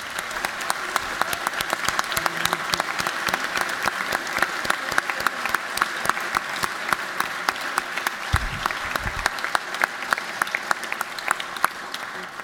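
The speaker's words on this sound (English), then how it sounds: "Let's give these guys a round of applause." Steady applause fills the chamber of the Georgia House of Representatives for visiting sailing athletes, dense and continuous clapping from a sizable crowd with a few sharper claps standing out.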